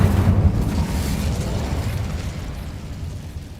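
Incendio fire spell bursting in Hogwarts Legacy, a loud rumbling fiery blast that starts strong and slowly fades over a few seconds.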